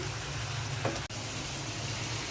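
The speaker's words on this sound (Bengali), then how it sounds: "মাছ আর বেগুনটা কষিয়ে দিলাম।" Fish and eggplant frying in a pan with whole green chilies: a steady close sizzle with one brief scrape and a momentary dip, no talking.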